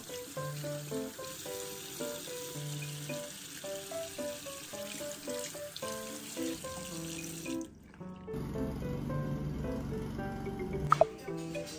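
Water runs into a sink while makeup sponges and brushes are washed with cleanser, a steady splashing rush in the final seconds after soft background music.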